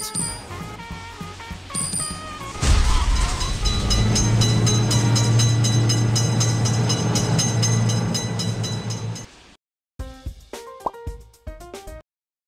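Crossing-bell chimes ring before a simulated train in a railroad crossing game surges in loudly, holding a heavy rumble and low droning tone, then cutting off abruptly, followed by a brief burst of chiming.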